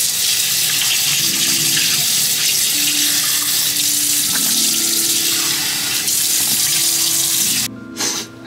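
Tap water runs steadily into a sink for rinsing off after makeup removal, a continuous broadband gush lasting several seconds before cutting off near the end, with no talking.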